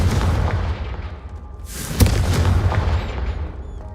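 A Confringo fire spell bursts in the Hogwarts Legacy video game as one deep, booming explosion with a rushing whoosh. It sits amid heavy rumbling low noise, loud and close, with no speech.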